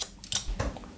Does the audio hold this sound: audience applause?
no